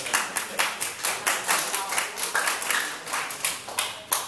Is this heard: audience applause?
yes